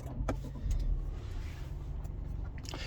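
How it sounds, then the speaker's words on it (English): A 2022 Subaru Outback Wilderness with the 2.4L turbo engine running after a push-button start: a steady, close low engine hum under a faint cabin hiss, with no talking. "push button start, foot's on the brake, light goes green, that means go"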